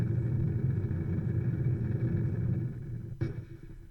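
Rocket engine in Kerbal Space Program throttling back: a loud, steady, low rumble that thins and drops in level toward the end, with one brief sharp click.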